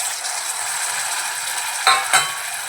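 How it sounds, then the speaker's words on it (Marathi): Peas, potato and carrot tipped into a pan of frying onions and stirred: a constant hiss of sizzling with two short scraping clatters of the spoon near the end, close and clear with no voices. "लगेच आपण ज्या भाज्या घेतल्या वटाणे, बटाटा आणि गाजर ते घालून घेऊया"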